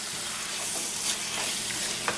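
Steady sizzle of chicken frying in a pan for pepper chicken, with occasional scraping and clinks as it's stirred; continuous, close, moderately loud, no voices.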